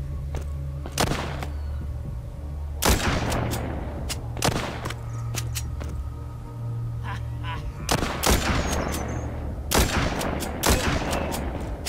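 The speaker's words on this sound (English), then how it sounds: "Let's see how this sniper rifle, does." Sniper rifle fire in Walking Zombies 2: about half a dozen loud, sharp cracks at uneven intervals, each cutting through a low, continuous game hum.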